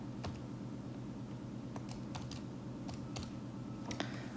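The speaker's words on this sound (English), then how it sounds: "let me type this in and see what we get" Typing on a computer keyboard, irregular soft key clicks at close range over a steady low background hum, with no talking.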